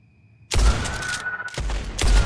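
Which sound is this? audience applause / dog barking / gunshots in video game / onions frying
gunshots in video game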